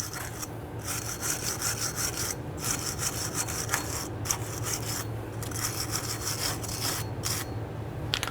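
Rust is scrubbed off the brake hub face of a 2011-2017 Nissan Quest with steady, rapid back-and-forth rasping strokes, close by and continuous, with brief breaks between passes.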